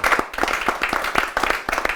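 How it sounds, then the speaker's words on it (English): A live audience at a fireside talk at Fallingwater gives a round of applause: dense, steady clapping from many hands, loud and continuous throughout. "Let's give a round of applause."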